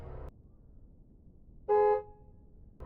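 One short car horn honk in the Asylum video game, a flat tone sounding clearly about a third of a second over quiet background hiss.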